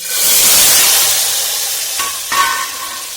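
Brinjals tipped into a hot pan after asafoetida for a Gujarati stuffed brinjal-potato dish, raising a loud, steady sizzle that eases slightly, then stirring scrapes near the end.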